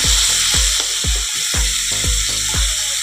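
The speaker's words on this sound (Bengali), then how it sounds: "ওতেই চিংড়ি মাছটা ভেজে নেব।" Prawns coated in turmeric and salt frying in leftover potato-frying oil, a loud continuous sizzle with a steady spitting crackle, close and dense throughout.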